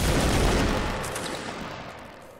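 A close, loud infantry volley of massed musket fire erupts at once in a Napoleonic Wars battle game, a thick burst of gunfire that rolls and decays over a couple of seconds.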